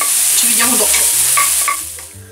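Peppers fry in a pan for an Italian vegetable ratatouille, a loud close sizzle broken by a few scraping stirs that fade toward the end, with no voices.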